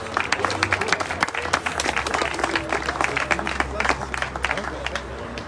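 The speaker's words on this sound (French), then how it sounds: "On peut les applaudir." Audience at a basketball season launch evening applauding, dense sustained clapping from a nearby crowd with a low hum and some voices underneath.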